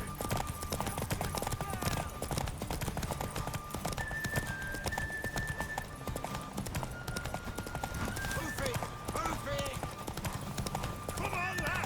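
Hooves clatter in a quick, continuous rhythm under shouting voices and clashing sounds, with a horse whinnying partway through, in the video game The Witcher 3: Wild Hunt.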